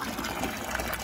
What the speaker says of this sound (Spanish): Pues esto ya está lleno de agua.